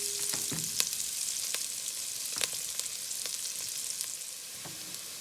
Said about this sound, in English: So onions have fried off nicely, getting a bit of colour on a bit of them now